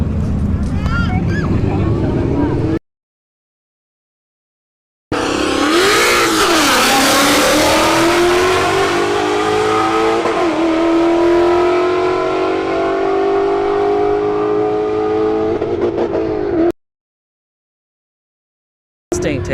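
A C8 Corvette and an S197 Mustang launch side by side at a drag strip. Their engines roar and climb steadily in pitch through the run, an announcer talks over them, and the sound cuts out briefly at the start and end.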